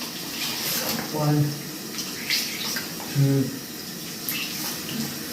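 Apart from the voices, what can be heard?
washing face with cold tap water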